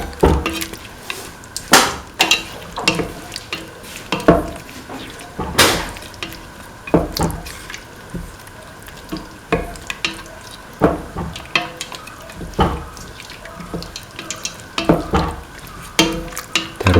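Spatula stirring chili duck in a pan with added water, repeated scraping and knocking strokes in an uneven rhythm over a soft sizzle, close and fairly loud.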